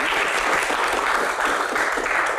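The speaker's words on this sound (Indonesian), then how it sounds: "Tepuk tangan buat quote of the day" Steady audience applause fills a talk show studio during a Q&A segment, dense and continuous clapping from a crowd held at an even level throughout, with no voices over it.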